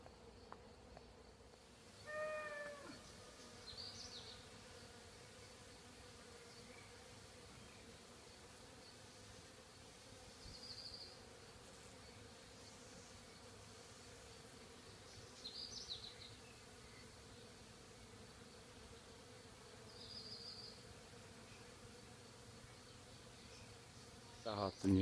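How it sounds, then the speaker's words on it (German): A steady, soft hum of many bees buzzing around blooming roses outdoors, constant and faint, with a brief voice near the start. "vielleicht hört man das, alles voll, die Rosen blühen und alles ist voll Bienen"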